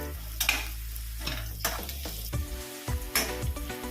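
Golden onions fry with turmeric in a pan for Maharashtrian poha, giving a gentle continuous sizzle broken by sharp clinks and scrapes of a spatula stirring, with no one speaking.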